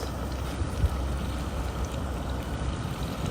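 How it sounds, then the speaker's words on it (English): Vegetables sizzling in hot oil in a pot while cooking a chili and black bean soup, a steady close hiss and crackle with faint low bumps and no voices. "already sizzling nicely"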